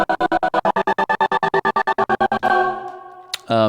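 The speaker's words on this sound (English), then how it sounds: "If we did triplets, it sounds something like this." A synth chord gated in a fast triplet rhythm, the volume switching on and off in tight, even stutters for over two seconds before opening into a sustained tone, followed by a short bright sweep and a low held chord, with no talking.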